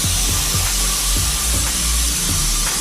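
Paint spray gun spraying in a speed test against brushing, a steady close hiss filling the whole stretch with a low rhythmic pulsing thump beneath it.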